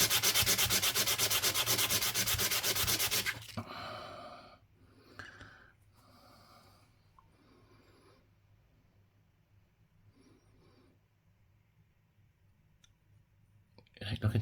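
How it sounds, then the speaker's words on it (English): Harsh, rapid scratching of sandpaper against a small worn coin ring, loud and close for a few seconds, then stopping abruptly; faint shuffles, breaths and brief clicks follow, with a short burst of rubbing at the end. "let's give it another clean. Bit of sandpaper."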